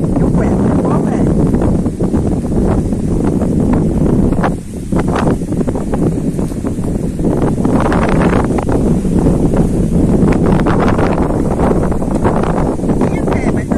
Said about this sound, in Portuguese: Minha fé, mas tá ventando